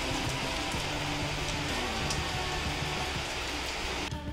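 Steady rain falling on a rainy day, a dense even hiss of drops that fills the clip without pause, with no voices over it.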